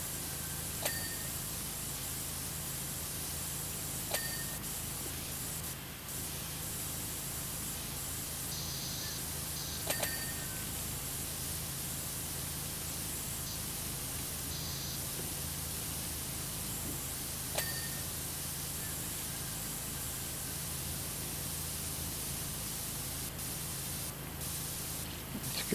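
A heavy duty pressure washer in PowerWash Simulator 2 sprays in a continuous, fairly faint hissing rush, with a few brief clicks and ticks over the steady spray, no talking.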